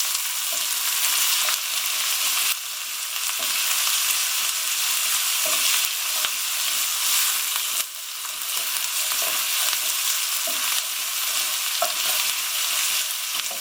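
Meat-free chick'n pieces and finely cut vegetables sizzle loudly in a hot pan, with a constant close frying hiss and periodic scrapes and clicks of stirring.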